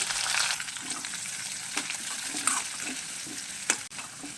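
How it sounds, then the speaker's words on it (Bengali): Chopped onion fries in ghee with whole cumin and three dried red chillies for vegetable khichdi. A continuous sizzle plays alone, broken by a few stirring clicks and scrapes. "পেঁয়াজটাকে ভালো করে ভেজে নেব"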